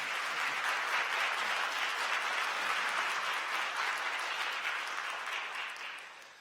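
A Korean church congregation claps in welcome for visiting young people during a Sunday service, the applause dense and sustained for several seconds before trailing off toward the end.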